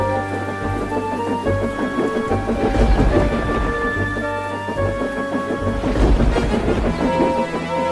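Thunderstorm over a main railway line: loud rumbling thunder cracks around the midpoint and again near the end, over steady rain and a dramatic musical score.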